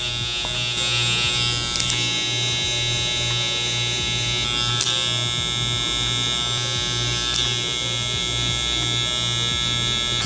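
Hair clippers with a half guard blend a low taper, a steady loud electric buzz with a constant hum throughout, broken by a few sharp clicks and brief contact sounds near the mic.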